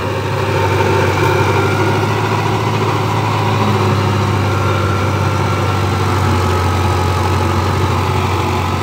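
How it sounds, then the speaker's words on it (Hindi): A New Holland 5500 tractor with 55 HP drives a super seeder in a farm field, a loud, steady, droning engine hum with constant low rumble and vibration. "new Holland 5500 rotary pump 55 HP ते सुपर सीडर चलता पिया"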